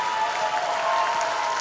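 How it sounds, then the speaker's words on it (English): A crowd applauds steadily after an improv comedy scene ends, a brief continuous wash of clapping with no talk over it. "Give them a round of applause."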